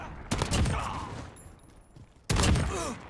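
Gunfire in a multiplayer shooter video game: two loud bursts of rapid automatic fire, the first near the start and the second near the end, with quieter battlefield noise between them.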